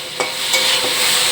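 Small fish fry in a pan in a home kitchen, a steady loud sizzle broken by a couple of sharp utensil clinks.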